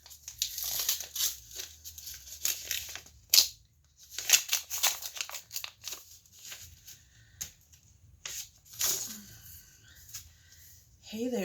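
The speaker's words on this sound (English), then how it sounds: "This is a card from Marilyn." Paper greeting card envelope being opened and handled, close crisp crinkles, rustles and tearing in irregular bursts, with quiet gaps between.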